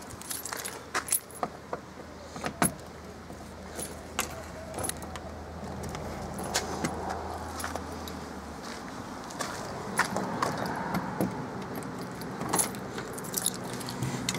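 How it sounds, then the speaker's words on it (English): Keys jangle in sharp, repeated bursts while the front cover of an Abbey 416 GTS Vogue touring caravan is opened outdoors, with faint footsteps and a distant car passing underneath. "So I've got the keys"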